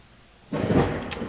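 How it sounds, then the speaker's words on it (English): A sudden low rumble of thunder starts partway through and rolls on, fairly loud and close, with a faint crackle near the end. "Would that be a lightning? It's starting to rain outside. And a thunder."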